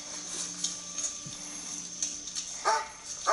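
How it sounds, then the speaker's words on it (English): A dog barking in a TV show, a few short, fairly faint barks and yips scattered over quiet background tones, with a louder cluster near the end. "And there's a dog."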